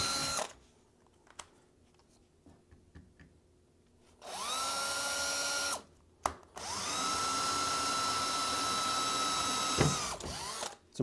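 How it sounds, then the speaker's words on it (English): A power drill with a 3/16 bit drills pilot holes in an AZEK Reserve composite rail. There are two steady whirring bursts, each spinning up and winding down, separated by brief pauses with a few clicks and knocks. "Using a 3/16 bit, you're going to drill out the holes with a pilot hole."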